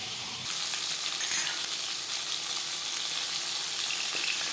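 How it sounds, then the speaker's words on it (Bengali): Bhola fish frying in hot oil in a pan for a Bengali fish curry, a steady close hiss of sizzling that starts after a brief pause and carries on evenly, with a small spatter burst near the middle and no talking. "মাছ ভাজা হয়ে গেছে"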